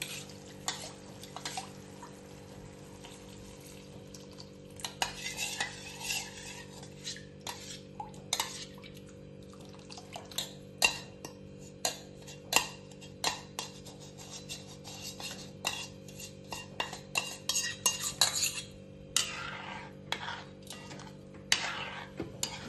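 A spoon scrapes and clinks against a metal pot in irregular bursts as drumstick curry is stirred, over a steady low hum, with no talking.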